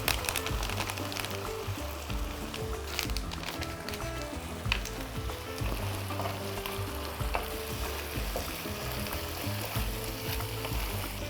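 Chicken and mushrooms seasoned with oregano and turmeric, cooking for a lavash quesadilla, sizzle constantly in a hot pan. The crackle is dense and close, with no talking.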